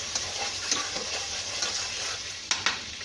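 Garlic and ginger fry lightly in hot oil in a pan for mutton ginger, a steady close sizzle broken by a few soft clicks and scrapes of a spoon.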